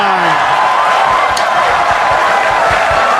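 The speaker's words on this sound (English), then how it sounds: "If you ever want to hear a crowd go wild, just fluke an 9 ball." A dense, loud crowd roars and cheers continuously at a professional nine-ball pool match, the wall of voices steady and close throughout.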